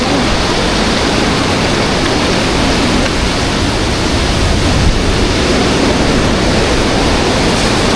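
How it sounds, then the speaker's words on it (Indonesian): Ocean waves crash and roar steadily at Karang Payung beach, a dense continuous wash of surf with no pauses, loud and close throughout, with no talk. "Itu ada lagi ombaknya."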